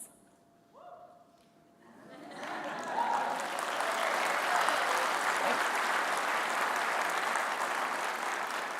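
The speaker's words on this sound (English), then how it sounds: "that clap is for you" A large audience of admitted students at a university admit weekend closing session bursts into applause after a quiet start, swelling into a loud, sustained wash of clapping that holds steady to the end.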